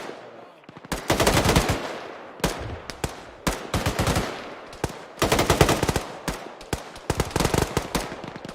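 Automatic gunfire in the military shooter ArmA 3 crackles in repeated loud bursts of rapid shots, with short pauses between volleys, close and dominant throughout.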